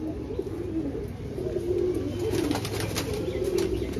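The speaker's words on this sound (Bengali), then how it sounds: "এগুলো ধাড়ি পায়রা" Madras pigeons coo in low, soft, repeated murmurs against a steady background hum, with occasional brief wing flutters.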